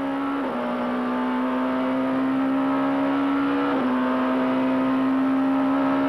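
A 1994 BMW SuperTouring race car engine screams at a steady high pitch at Val de Vienne circuit, flat out, with two quick shifts where the tone briefly drops and climbs again, loud and close throughout.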